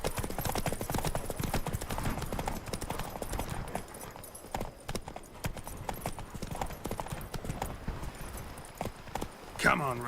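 A horse gallops in The Witcher 3, its rapid clip-clop hoofbeats steady and close throughout, with spoken voices over the top.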